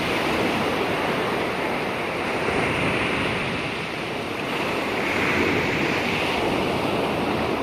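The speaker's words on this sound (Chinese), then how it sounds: "让你感觉到我们风的声音、" Steady roar of sea waves and wind sweeps past a seaside restaurant, a dense continuous wash of surf with gentle swells in loudness and no talk.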